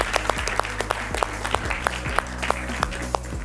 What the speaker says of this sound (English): let's give a round of applause to all the people who became a